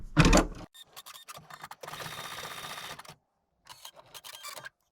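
An embroidery machine goes back over a few missed stitches in a free-standing lace design for an apron panel, giving a steady mechanical whir for about a second, then short stop-start bursts separated by silence.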